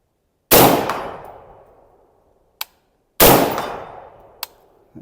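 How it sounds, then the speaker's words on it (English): Two sharp rifle shots firing 55 grain rounds at a 100-yard range, each a loud close crack with a decaying echo, followed about two seconds later by a faint metallic ping from a steel target. "Since I'm at 100 yards, I'm just going to be shooting 55 grain right now."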